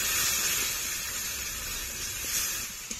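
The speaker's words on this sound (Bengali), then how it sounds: "এক চামচ হলুদ গুঁড়ো, ভালো করে কষে নেব।" Turmeric powder and spices fry in oil in a pan with a steady, even hiss and sizzle throughout. The sound is moderately loud and no one speaks.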